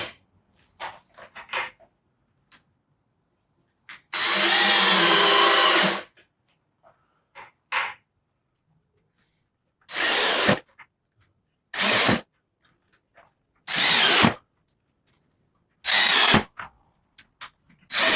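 Power drill driving 2.5 inch screws into a mini fridge table, five separate loud whirring bursts of a few seconds each, with short pauses and small knocks in between.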